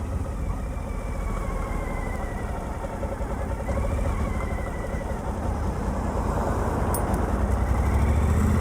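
Suzuki V-Strom 1000 motorcycle engine pulling steadily in low gear, a continuous close rumble with a slight rise in throttle toward the end, no voices.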